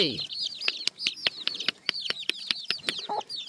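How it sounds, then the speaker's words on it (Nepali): Many small chicks peep in rapid, high-pitched chirps, overlapping in a busy chorus close by, with a brief low cluck near the end. "कति धेरै चल्ला हौ"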